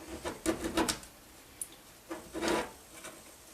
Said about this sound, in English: So I'll show you how to do that with a knife, cutting board. Just shave it.